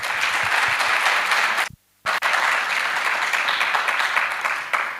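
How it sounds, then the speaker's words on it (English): Seminar audience applause at a youth resistance commemoration event, steady dense clapping that cuts out for a brief pause before resuming just as full and loud. "I think she deserves another round of applause."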